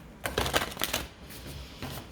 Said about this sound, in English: Just make sure these are shuffled well enough